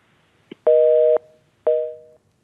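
Telephone tones after a dropped call on a line set up for a live stock-market broadcast: two sustained tonal beeps, the first about half a second long and the second similar but fading, each after a short click, heard alone.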